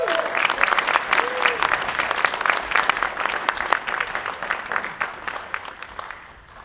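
A conference audience at Skepticon 8 breaks into sustained applause welcoming a speaker to the stage, dense clapping from a large crowd that holds steady, then gradually thins toward the end.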